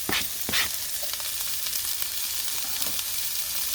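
Onions sizzle steadily in olive oil in a hot pan, a bright, continuous hiss close by with a few sharper crackles and pops early on, with no talking over it.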